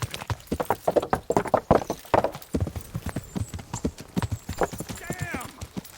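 A horse's hooves clip-clop steadily at a walk while ridden in the medieval video game Kingdom Come: Deliverance, each step close and distinct, with a few fainter voices and a brief whinny-like sound near the end.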